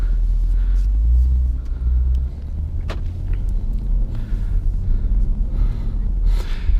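The supercharged 5-litre V8 of a 2019 Jaguar F-Pace SVR accelerates on the Autobahn, a deep, steady rumble heard from inside the cabin with a few brief sharp clicks and breaths over it.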